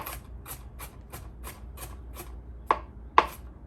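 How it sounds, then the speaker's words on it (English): A knife chops onions on a cutting board in a steady rhythm of about seven even strokes, followed by two louder, sharper whacks; close and clear with no talking. "go back and run your knife through the whole pile of onions"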